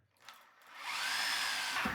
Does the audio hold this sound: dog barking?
no